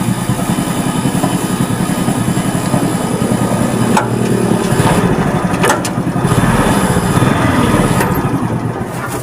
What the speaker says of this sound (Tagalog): itong umaandar yung makina ko